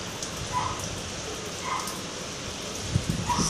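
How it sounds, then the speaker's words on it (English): Light rain falls outdoors on the first day of summer, a soft, even patter with faint scattered drops and no talk. "It's raining a bit."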